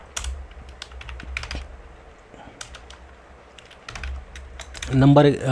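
Computer keyboard typing while Terraform code is entered, close bursts of rapid key clicks with pauses between them, and a voice speaking near the end.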